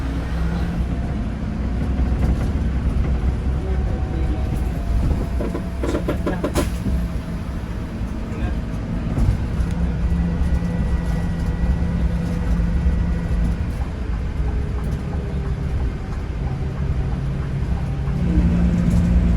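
A Peñafrancia Scania DM22T bus drones steadily under load on a night road test, its low engine note rising and settling through gear changes, heard from inside the cabin as one continuous rumble.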